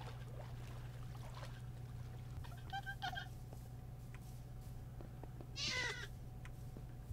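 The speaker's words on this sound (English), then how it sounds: "Let's go get ourselves a pet cat." A game cat in DB Craft gives a few short meows, two close together near the middle and a louder one toward the end, over a constant low hum with faint background noises.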